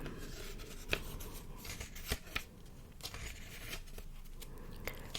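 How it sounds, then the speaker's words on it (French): Oracle cards are handled up close and quietly, giving soft scattered taps, slides and flicks of card stock at an irregular pace, with faint murmured speech at times. "ça fera de petits bruits de cartes"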